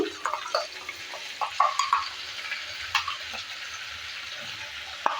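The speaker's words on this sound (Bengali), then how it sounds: "পেস্টটা দেওয়ার পর ভালো করে আবারও নেড়ে চেড়ে নিচ্ছি" Spice paste stirred into frying potato and pointed gourd in a pan, with soft sizzling beneath intermittent spatula scrapes and clinks against the pan, close and moderately loud, no talking.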